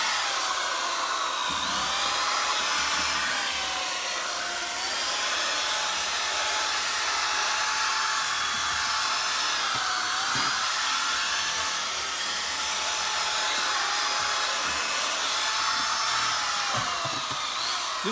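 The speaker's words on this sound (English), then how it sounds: "take your drill. Remember, it's an RPM drill. It's a high RPM drill." A small high-RPM power drill used on car detailing work, including pedals, runs steadily and close by with a high whine that barely wavers, no voices over it.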